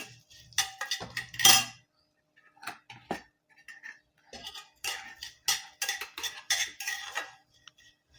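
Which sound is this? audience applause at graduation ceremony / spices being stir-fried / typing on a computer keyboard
spices being stir-fried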